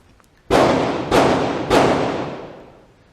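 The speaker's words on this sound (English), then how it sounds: "Damn, we're being shot at. No, that's the guys from the gun shop." Three heavy booming gunshots from a nearby gun shop, each a loud thud with a long decaying echo, fired about half a second apart.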